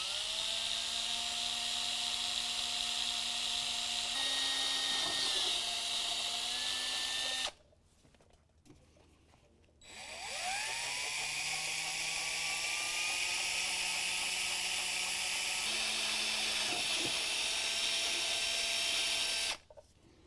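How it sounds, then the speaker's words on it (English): A power drill with a 1/8 inch bit bores a pilot hole while mounting steps on a 2017 Ford F-250, giving two long, steady, whining runs split by a short pause, close and loud with no talk. "We're going to use a 1/8 inch drill bit."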